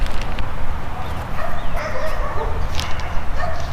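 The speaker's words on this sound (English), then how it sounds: "You have to excuse the dogs barking." Dogs bark repeatedly in the distance over a steady low background rumble, the yaps coming in scattered bursts rather than a steady rhythm, during dash pad replacement on a 1993 Chevy Camaro Z28.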